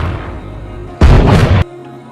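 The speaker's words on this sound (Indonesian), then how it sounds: "Kemudian menembaknya." A single loud, booming gunshot blast lasting over half a second, sharp onset and abrupt cutoff, over a low ambient rumble.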